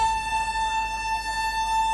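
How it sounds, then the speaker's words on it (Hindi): A train horn sounds at Ludhiana railway station as one long, steady, loud blast with a rich harmonic tone, holding unbroken for the whole stretch over faint station background. "और हॉर्न भी बजा दिया है फाइनली ड्राइवर ने।"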